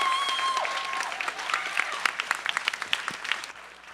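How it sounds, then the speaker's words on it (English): Clapping from an audience at a budget engagement forum for a student, with dense applause and a few sharp individual claps standing out, fading toward the end. "Let's give our student a big round of applause."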